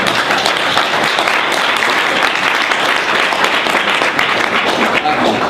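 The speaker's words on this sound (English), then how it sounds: "let's give you guys a big round of applause for being here today" A big round of applause from the audience at a Fast Start training event, dense and sustained, filling the room at an even level from start to finish.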